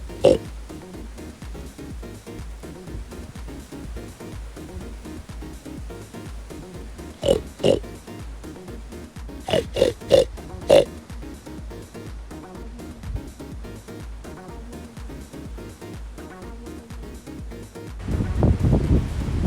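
A person outdoors by a fence in the bush imitates pig oinks and grunts toward feeding pigs. The short grunting bursts cluster in the middle of the clip over steady wind rustle and microphone buffeting.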